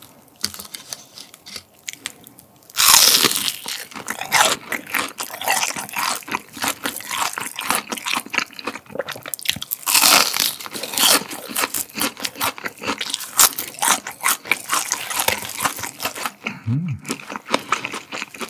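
Crunchy mala-seasoned fried chicken and mala shrimp menbosha bitten and chewed up close, with loud sharp crunches and crackling bites in quick, irregular bursts throughout.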